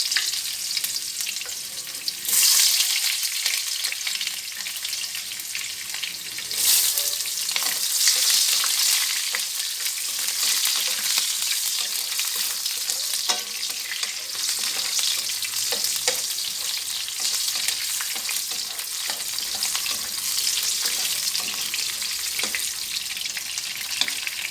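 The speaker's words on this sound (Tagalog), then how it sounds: "Isaute na natin ang sibuyas." Onions sauté in a pan with a loud, continuous sizzle and crackle, rising in bursts as they are stirred, and no talk over it.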